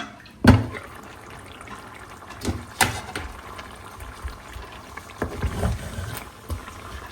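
Hands swish and slosh rice in a pot of water, a few distinct splashy strokes separated by quieter gaps, close and fairly soft with no talking.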